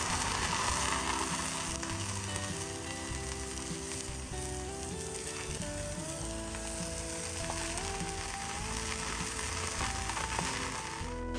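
Bratwursts fry back in a pan after coming off a flat top during summer grilling, giving a loud, steady sizzle that runs the whole way through, with faint clinking in the background and no talking.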